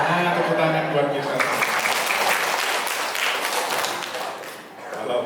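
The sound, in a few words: applause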